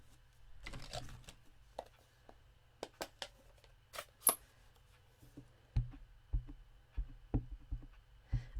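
Scissors snip around a piece of white card stamped with a Life is Great design, giving sparse, close clicks and short cutting strokes with quiet pauses between them and no voices.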